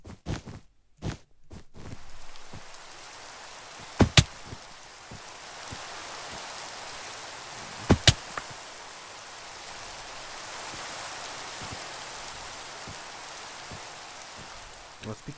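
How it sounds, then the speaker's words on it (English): Continuous rain ambience in Minecraft Bedwars, a broad, steady hiss that runs throughout, broken by a few loud sharp clicks and scattered soft game thuds. "Well, why was it raining?"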